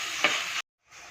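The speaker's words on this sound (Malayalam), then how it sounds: "ചുവന്നുള്ളിയൊക്കെ നന്നായിട്ട് മൂത്തിട്ടുണ്ട്" Sliced shallots fry and sizzle in a pan as the base for a fish curry, a close, bright hiss with a stir clack that cuts off abruptly before the sizzle returns faintly.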